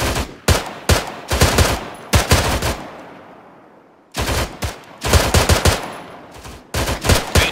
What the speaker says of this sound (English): There are shots landing inside the command bunker